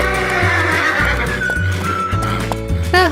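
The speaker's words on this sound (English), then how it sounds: "The Tennessee Walker Stallion." A Tennessee Walker stallion, a gaited horse breed, lets out a loud, drawn-out whinny that wavers and trails off, heard over a steady pulsing low backing sound.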